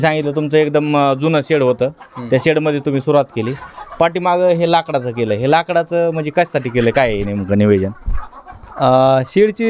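Desi free-range chickens cluck in an old poultry shed on a native poultry farm, the birds faint and continuous beneath steady close conversation between two men.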